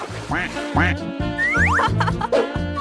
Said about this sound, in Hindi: और तुम्हारे पास छोटे छोटे बत्तख भी होंगे